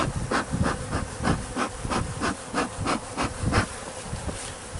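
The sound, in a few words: swarm of bees buzzing in hive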